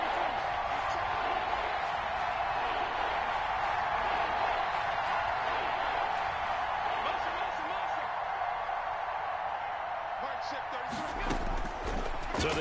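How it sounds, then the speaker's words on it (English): Football stadium crowd roaring as a big third down approaches against the Bills, a dense, steady wall of cheering noise that holds loud throughout and swells with sharper bursts near the end. "The crowd getting into it as we come up on a big 3rd down."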